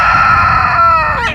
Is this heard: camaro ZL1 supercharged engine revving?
no